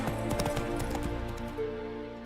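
Roach, Geralt's horse in the game The Witcher 3, trots with quick clopping hooves over a steady musical score, the beats close and fairly loud before easing off near the end.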